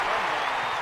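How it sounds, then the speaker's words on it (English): Stadium crowd at the London 2012 Olympic throwing events cheering and applauding a fifth-attempt throw by a British athlete, a dense, steady roar of clapping and voices filling the whole moment. "Crowd responding to that."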